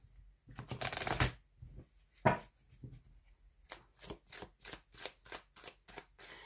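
Tarot cards are shuffled close by in a quiet room, first a brief dense flurry, then a single sharp riffle, then a run of regular soft slaps and flicks, with no voices.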